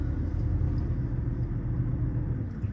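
A car backing up slowly on a road near a hotel in Hungary, a steady low engine rumble that stays level and close throughout, with no voices.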